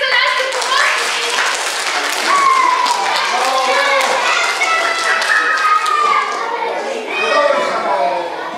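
Children and adults clap for young helpers at a road-safety event, a steady patter of applause mixed with lively children's voices throughout.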